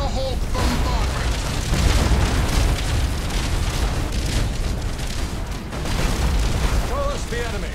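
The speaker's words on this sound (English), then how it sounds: "Thunderhawk bombardment." Thunderhawk bombardment in the Battlefleet Gothic space-battle game, dense, continuous rumbling booms and explosions layered together with faint high chirps, loud and sustained throughout.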